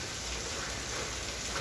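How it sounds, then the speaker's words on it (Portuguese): Steady rain falls on a morning in Rio de Janeiro, a dense, constant patter and hiss on surfaces with no breaks or voices. "Hoje o dia amanheceu assim, chuvoso."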